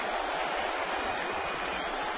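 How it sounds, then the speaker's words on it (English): A big-league baseball stadium crowd at a 2010 Blue Jays at Yankees game chants for A-Rod, a steady, dense wash of massed voices filling the park for the whole stretch with no distinct individual words standing out. "Crowd with a "Let's Go A-Rod" chant."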